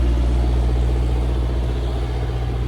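A truck engine idles close by at a rest stop, a steady loud low rumble with an even throb running through the whole stretch, with no voices over it.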